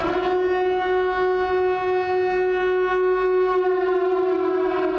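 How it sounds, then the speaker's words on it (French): Civil defense style siren wailing in the Silent Hill film, a loud, sustained harmonic tone rising slightly and holding steady for the full stretch with no talk over it. "une sirène retentit."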